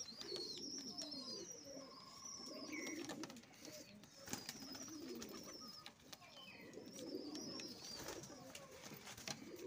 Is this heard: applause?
no